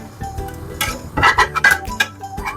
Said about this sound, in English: And now I have to hurry and flip my meat before it gets burnt